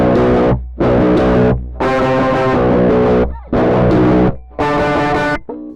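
Distorted 7-string multiscale Aklot electric guitar plays loud sustained chords in five bursts, each ringing for a moment before cutting off abruptly.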